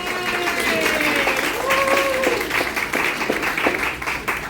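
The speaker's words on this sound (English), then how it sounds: "Give them a round of applause." Audience applause for the Joyful Noise Singers at The Village at Southlake: steady, dense clapping fills the room at full strength throughout, with a few cheers or whoops rising above it.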